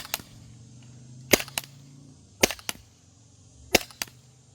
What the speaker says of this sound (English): Now we're going to keep shooting at our target here.